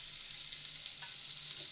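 Tomatoes sizzle steadily as they hit a hot pan for restaurant-style paneer butter masala, a continuous close frying hiss with a faint stir around the middle, no talking.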